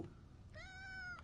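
Cat meowing in the video game Powerwash Simulator 2: a single drawn-out, clear meow, fairly faint and heard alone.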